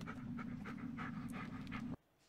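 A dog pants in the Blair Witch video game, quick rhythmic close breaths that run steadily and then stop abruptly near the end.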